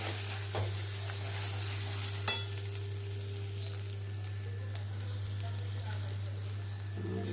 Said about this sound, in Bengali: এবার কষানো মোটামুটি চলছে।